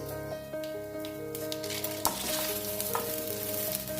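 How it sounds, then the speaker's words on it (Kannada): Soaked, washed rice frying in a pan with oil for vangi bhaat (brinjal rice), a steady close sizzle with occasional spoon clacks against the pan as it is stirred. "ಇದನ್ನು ಸ್ವಲ್ಪ ಫ್ರೈ ಮಾಡ್ಕೊಬೇಕು."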